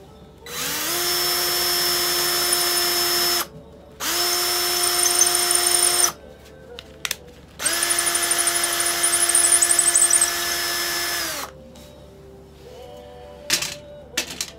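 A power drill bores holes in wood for small dowels in three loud bursts of whirring, each revving up, holding steady and stopping, with a few small clicks and knocks between them.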